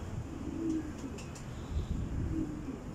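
A breeder pigeon of an old home-breed line cooing close by, low throaty coos repeating a few times over faint background noise.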